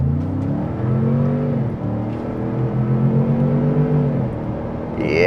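A 2025 Ford Expedition Tremor launching off the line, its engine rising in pitch through gear changes in a loud, close, sustained acceleration heard from inside the cabin.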